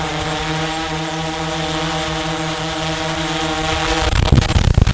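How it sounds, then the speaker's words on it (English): A drone carrying a Nokia 3310 phone for a 900-foot drop hovers with a loud, steady propeller whine and buzzing harmonics, then a burst of rough rumbling near the end. "We're dropping this 3310 from 900 feet with a drone."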